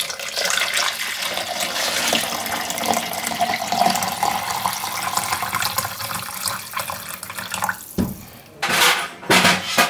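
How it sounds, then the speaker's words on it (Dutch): Hot water is poured from a tap or kettle over two stock cubes in a measuring jug, a continuous splashing rush that runs for several seconds, then breaks off into a few short, louder gushes near the end. "Daar overheen doe ik al heet water."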